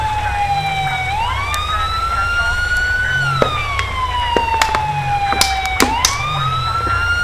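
Police car siren in GTA V with the LSPDFR mod, a loud wailing tone sweeping slowly up and down over several cycles, layered over rumbling engine and road noise with a few sharp clicks and knocks.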